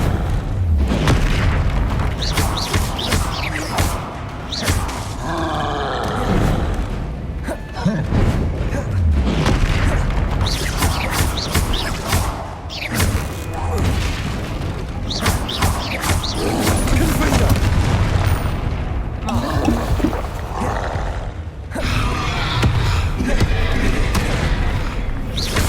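Spell blasts and booming explosions from the wizarding action game Hogwarts Legacy fill a dense, loud, continuous combat mix, thuds and crashes tumbling over each other with voices shouting throughout.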